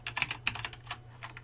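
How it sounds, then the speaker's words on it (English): Fingers type on a computer keyboard in a quick, close run of light key clicks over about a second and a half, alone with no talking. "Because if I type"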